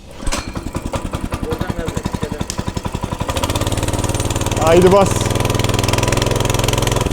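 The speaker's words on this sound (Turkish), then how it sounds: "Makine çalışıyor." A petrol garden tiller engine is pulled into life, first with a rapid uneven chugging, then settling into a steady, loud running drone that swells briefly as throttle is added, with people talking over it.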